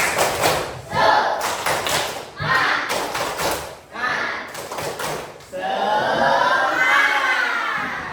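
A primary school class performs the rhythmic 'tepuk semangat' clapping chant, with bursts of group claps and thuds alternating with children's shouted chanting, then a sustained burst of loud voices.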